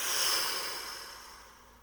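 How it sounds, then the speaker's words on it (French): A forceful exhale blown out through the mouth during a relaxation breathing exercise, one close breathy whoosh that is loudest at the start and fades over about two seconds. "Soufflez fortement."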